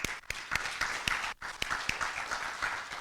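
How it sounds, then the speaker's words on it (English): Audience applause for a panelist at a high-level conference panel, a steady wash of clapping with a few sharp louder claps and a brief dip midway. "Another round of applause for him, please."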